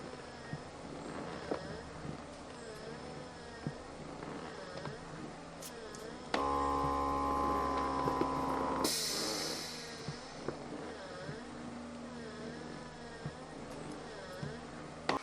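A Bob & Brad foot massager runs with kneading and air compression, heat on high and kneading at medium, giving a steady buzzing motor hum. A louder, tonal whirring swells for a few seconds partway through, then settles back to the low drone.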